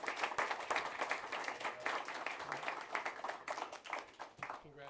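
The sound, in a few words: audience applause for a panel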